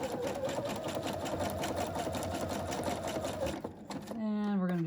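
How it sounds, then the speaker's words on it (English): A sewing machine stitches fabric down and then back stitches, giving a fast, even, close mechanical chatter that stops briefly near the end. A voice speaks over the running motor. "we're just going to stitch this down and back stitch this"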